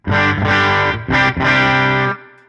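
An electric guitar played through a Tone City Double Durple overdrive pedal gives a thick, low-mid-heavy driven tone. A few sustained chords ring loud and close, with brief gaps, then decay.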